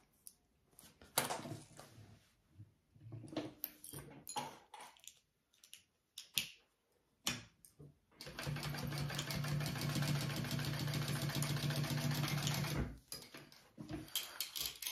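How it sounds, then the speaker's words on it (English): A sewing machine runs a 3/8 inch seam joining a bag gusset, a steady loud mechanical whir for several seconds, framed by quieter handling clicks and fabric rustle before and after. "we're going to sew those together at a 3/8 inch seam allowance"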